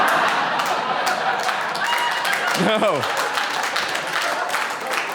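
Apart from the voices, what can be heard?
audience applause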